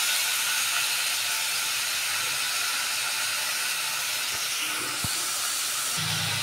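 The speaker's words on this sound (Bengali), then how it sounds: "এবার আমি এতে মাংসটা অ্যাড করে এটা এখন কষিয়ে নেবো একটু" Meat sautéing with onions in a wok, a loud, continuous hissing sizzle with a few brief knocks near the end.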